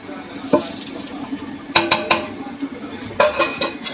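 Hot salt is tipped into a pot of chicken biryani and stirred, giving a few sharp metallic clanks and scrapes of a spoon against the pot over a low background hiss.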